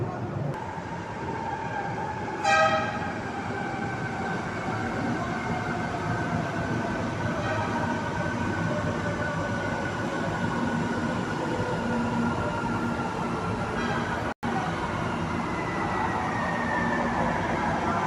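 Metro train running along the track, a steady rumble with rising and falling whine as it moves, heard from inside the carriage.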